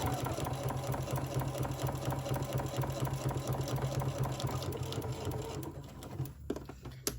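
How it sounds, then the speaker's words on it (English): A sewing machine runs in a steady, fast continuous whir of stitching while sewing flat mail packaging, loud and close, slowing and stopping near the end with a few clicks. "it's working out just great just to sew this. See how straight I can get my stitch."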